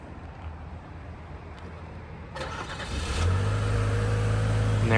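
A 2024 Chevrolet Colorado Z71 pickup engine starts by remote start partway through, shifting from quiet ambience to a crank and a steady, moderately loud idle nearby.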